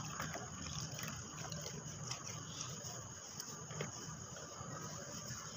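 Water runs steadily as a hand is washed during an at-home hand bleach and manicure: a faint, even trickle and splash continues throughout, with no talking.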